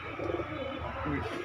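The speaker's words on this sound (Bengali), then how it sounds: "হাট বাজারে কিছু কবুতর দেখাচ্ছে আপনাদের দর্শক" Pigeons at a Khulna market give a brief throaty cooing against a busy background hum.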